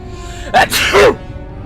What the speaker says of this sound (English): Well, I didn't sneeze up blood this time.